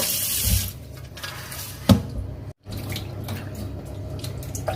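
Water runs and splashes as blanched pig intestines are rinsed, a steady close wash of tap water with one sharp knock partway through and a brief silent gap.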